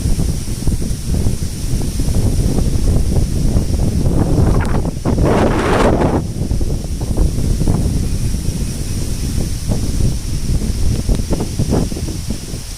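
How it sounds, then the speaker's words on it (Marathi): Strong wind buffets the microphone outdoors beside a stream during traditional small-fish catching in Konkan, a loud, continuous rumbling roar that surges in gusts with rustling underneath. "वारा कमी नाही झाला आहे"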